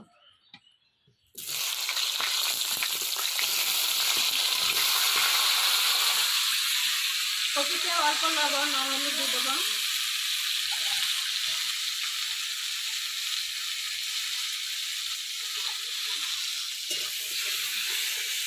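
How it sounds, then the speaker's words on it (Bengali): Cut cauliflower frying in a little oil in a village kitchen, giving a loud, steady sizzle that rises abruptly and holds throughout, with someone speaking briefly over it. "এবার কেটে রাখা কপিগুলো ভেজে নেব।"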